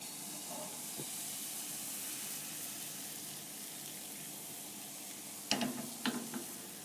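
Crepe batter sizzles with a soft, steady hiss in a buttered crepe pan, followed near the end by a couple of brief utensil clatters. The sound is quiet, with no talking.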